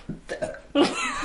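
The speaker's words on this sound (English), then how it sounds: "She's burping, sorry." A girl burps several times in quick succession, close and fairly loud, with a longer, stronger burp at the end.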